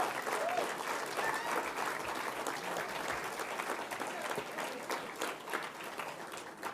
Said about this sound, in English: Can we get a big round of applause for everyone who worked?